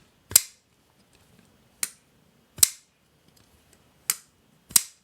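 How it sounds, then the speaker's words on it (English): Five crisp, sharp clicks at irregular intervals, close and clean against near silence: a We Knife Co. Ferrum Forge Minax pocketknife blade snapping shut, subdued and discreet. "nice click, pretty subdued and discreet closing sound"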